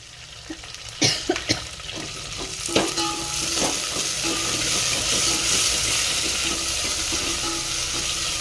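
Potato fry ingredients hitting a hot pan, opening with several sharp clattering knocks before a loud, steady sizzle sets in and carries on close up, with no voices.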